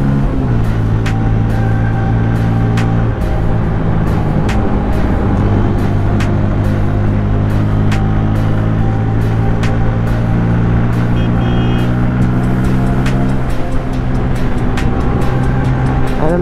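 Bajaj Pulsar N160 motorcycles drag racing uphill on a hill road, a loud, steady engine roar with shifting tones running throughout, close and without talk.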